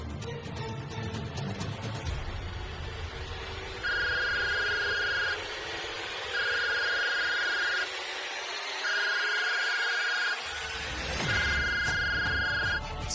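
A telephone rings in a Punjabi TV drama scene, four evenly spaced electronic ring bursts of about a second and a half each with short gaps, clear and steady over a faint room background, with no talking.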